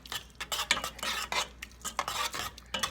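Minced garlic cooks in a pan as a utensil stirs and scrapes it, a run of quick rhythmic metallic strokes over a faint sizzle, close and with no talk.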